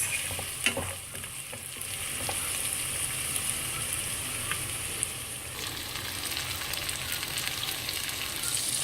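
A Sri Lankan fish curry base cooking in a pan, a close, continuous sizzle and crackle with occasional light taps, moderately loud and unbroken.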